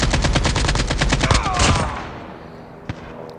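Rapid automatic gunfire in Call of Duty Mobile, loud bursts of closely spaced shots that stop abruptly and trail off, with one faint shot near the end.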